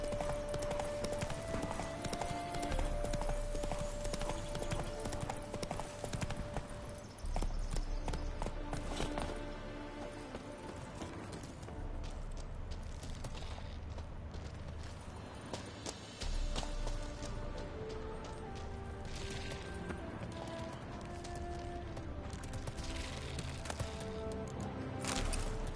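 Roach, a horse in The Witcher 3, trots along with steady, rhythmic clip-clop hoofbeats that run throughout, mixed with game ambience and soft music.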